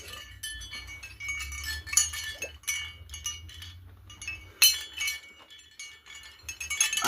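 Race medals clinking and jingling together, with repeated bright metallic chinks in irregular bursts, close and fairly loud, over a faint low hum.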